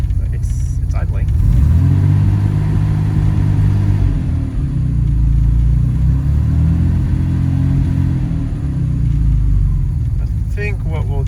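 A Jaguar XK150 engine idles steadily when cold with a low, continuous rumble, close by, with a faint rattle near the start and end.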